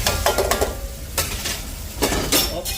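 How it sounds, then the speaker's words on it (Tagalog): Ground pork sizzles as it is stirred with a utensil into sautéed tomatoes in a pan. Scraping and clinking strokes come in bursts over a steady frying hiss, close and fairly loud. "Lagyan na natin yung giniling."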